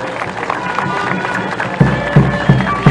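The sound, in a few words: applause welcoming the first maxi bag of lithium carbonate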